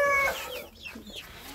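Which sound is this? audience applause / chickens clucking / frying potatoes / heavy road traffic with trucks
chickens clucking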